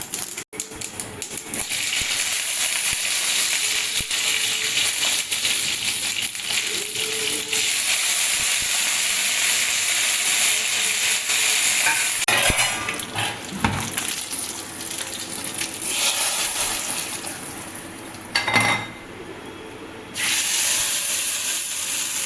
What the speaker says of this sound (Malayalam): ഞാൻ അപ്പുറത്ത് കടുക് വറുക്കാനായിട്ട് വെളിച്ചെണ്ണ ചൂടാവാൻ വെച്ചിട്ടുണ്ട്